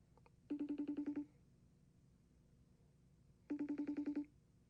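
A phone call ringing after dialing: two bursts of a warbling electronic ring, each about three quarters of a second, separated by roughly two seconds of near silence, faint and alone.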